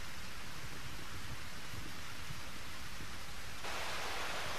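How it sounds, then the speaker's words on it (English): Heavy rain pours down steadily in the role-playing game Eternal Sonata, a dense, even hiss that fills the whole stretch with no other sounds. "it's pouring down rain like this"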